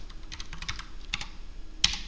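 Fingers typing on a computer keyboard nearby, a steady patter of light key clicks with one sharper, louder keystroke near the end, no voices over it.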